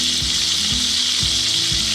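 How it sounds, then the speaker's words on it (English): Thin top sirloin steak fries in a skillet with a steady, bright sizzle, broken by soft low bumps about every half second as the pan or meat is moved. "my steak that I'm frying is I just turned it over"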